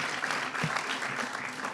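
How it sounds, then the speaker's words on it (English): A government audience gives the state legislature a round of applause, steady dense clapping filling the whole short stretch at moderate distance. "Our legislature deserves a big round of applause collectively for all they've done this year"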